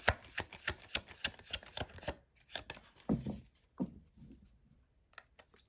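Tarot cards shuffled and drawn by hand, a quick run of crisp riffling snaps followed by a few softer slides and taps as cards are pulled, close and alone.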